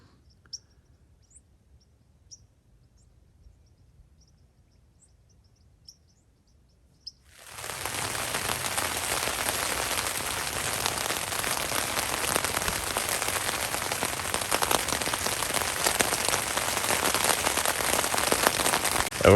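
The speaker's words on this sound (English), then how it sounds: "It started raining" After near silence with a few faint chirps, rain suddenly begins pattering hard on a tent, a dense close hiss that continues steadily to the end.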